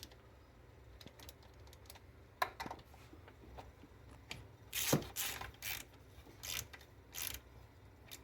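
A ratchet tightens the intake bolts on a Ford Flex during fuel injector replacement. Quiet, close clicking comes in short irregular bursts, with scattered taps of metal on metal and no talking.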